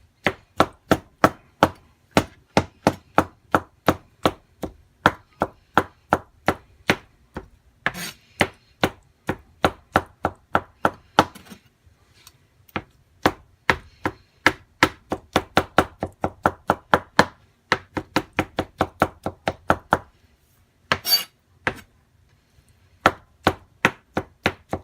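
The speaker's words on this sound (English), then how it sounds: "I'm going to chop this stuff up too, add it to that bowl with the rest of the stuffing and ingredients." A knife chops sliced mushrooms finely on a board for chicken stuffing, crisp close rhythmic strokes in rapid steady runs broken by short pauses, with no talking.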